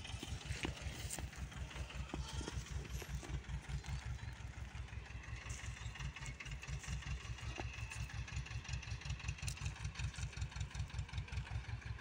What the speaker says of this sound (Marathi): ऐकू येतं का त्या ट्रॅक्टरमध्ये?